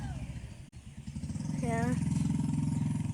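Motorbikes and scooters pass by on a road. One engine hum swells and holds steady in the second half, close by and fairly loud, and a person talks in the background.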